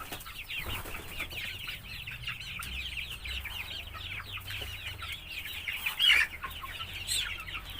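Chickens cluck and squawk busily while being given rice feed, a continuous chatter of overlapping calls with a louder burst near the end and a few wing flaps, no speech.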